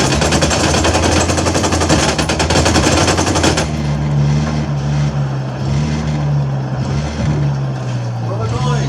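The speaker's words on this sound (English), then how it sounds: "I'm shooting these fuckers." Gunfire from shooting enemies in the video game Ghost Recon Wildlands, a loud dense burst of rapid shots for a few seconds, then a steady engine-like drone underneath, with a voice talking over it.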